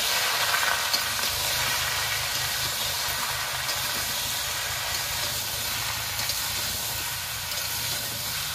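Bottle gourd with salt sizzles and hisses steadily in a frying pan while being stirred, a close, continuous frying noise with faint scraping and no talk.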